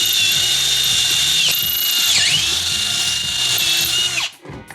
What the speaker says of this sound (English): Got the old drill here.